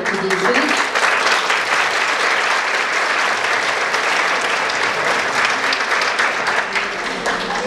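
Sustained audience applause fills a hall at a folklore ensemble's annual concert, steady dense clapping throughout at a loud, even level.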